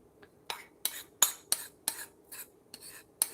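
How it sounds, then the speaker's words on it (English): Hollandaise sauce being spooned over eggs, a series of about nine sharp metal spoon taps and scrapes against a dish in a loose, irregular rhythm, close and fairly quiet with no talk. "we're just gonna spoon it over, and it will thicken up as we go as well"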